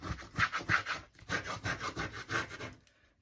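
Wallpaper being pressed and rubbed firmly onto a handmade journal cover makes a rhythmic series of close, dry scraping strokes, about ten quick passes that fade out at the end.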